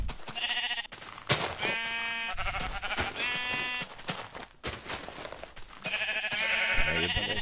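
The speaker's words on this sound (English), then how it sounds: "Punch some sheep here, get some more." Minecraft sheep bleat in the video game, with several loud, wavering bleats repeating in quick succession across the stretch, some overlapping, with brief game noises between them and no talking.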